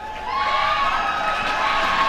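A dense crowd at an esports Grand Final between Astralis and Team Liquid roars and cheers steadily, a broad sustained wash of voices with shrill whistles and shouts rising through it, loud and close throughout.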